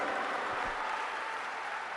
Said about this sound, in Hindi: तो गुजरात के साथियों के लिए जोरदार तालियां बजाइए